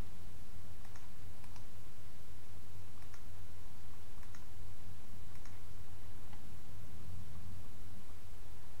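Light computer mouse clicks, including right-clicks, in a BaseCamp software session, several sharp faint ticks scattered irregularly over a steady low electrical hum.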